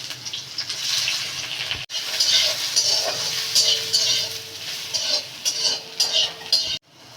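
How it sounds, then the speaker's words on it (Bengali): Eggplant pieces fry in oil in a wok with turmeric and salt, a steady sizzle broken by scraping stirs and clinks of a spatula against the pan, close and fairly loud. "বেগুনগুলোকে লাল লাল করে একটু ভেজে নিতে হবে"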